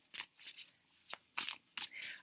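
Tarot cards being shuffled by hand at a reading: several quiet, papery riffling bursts and slides in an irregular rhythm, close and soft.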